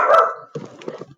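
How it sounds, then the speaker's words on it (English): A dog barks indoors, a few short sharp barks near the microphone, then softer yips, with no speech. "Sorry, my dog is barking."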